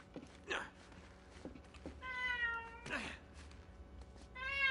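A house cat meows several times, close by, with rising drawn-out calls separated by brief pauses, over a quiet room background with a few soft thumps.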